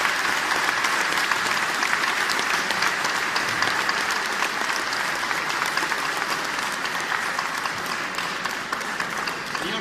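Sustained, dense audience applause in a large hall, evenly loud throughout as many hands clap together without pause.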